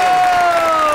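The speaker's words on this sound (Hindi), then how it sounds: "आपकी बहुत सी तालियों में दीवान एंड ओनली रेशम" Audience applause and cheering fill the second, loud and steady, with a sustained tone running through.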